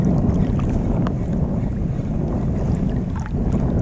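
Dense, steady rushing noise of heavy rain pounding down, loud and continuous with no pauses.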